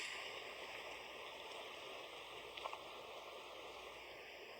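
A babbling brook of flowing stream water rushes steadily and evenly throughout, with a few faint splashes and no voices.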